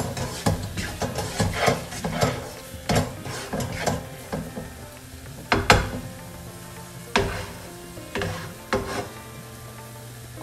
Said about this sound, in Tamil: இப்போ எண்ணெயில மசாலா வதங்கட்டும்